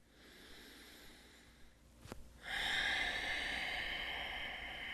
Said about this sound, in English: start breathing deeply in and out of the nose